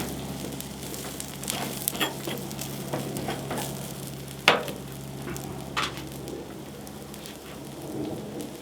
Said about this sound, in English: That sound that the onions made when they got onto the hot fat.